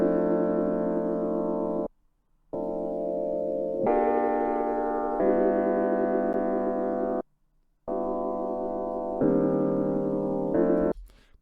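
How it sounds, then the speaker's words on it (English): Smooth jazz sample from a Russian jazz ensemble, looped with Complex Pro warping: sustained harmonic chords play in even phrases, broken by two short silent gaps, steady and fairly soft throughout. "You can set it to like Complex Pro if you want it more smooth"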